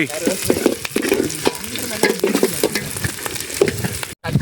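Chili and curry leaves frying in a pan over an outdoor cooking fire in the forest: a steady, loud crackling sizzle with spattering pops and the scrape of stirring, close up and almost uninterrupted.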